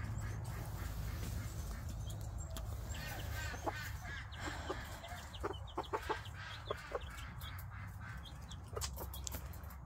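Backyard chickens, chicks and ducks cluck, cheep and quack in scattered bursts, some close and sharp, others fainter, over a low steady outdoor hum.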